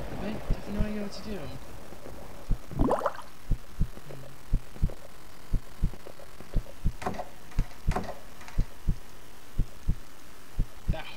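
Heartbeat in a horror video game, a steady, slow, thudding pulse of paired low beats repeating throughout, with brief speech and faint background noise early on.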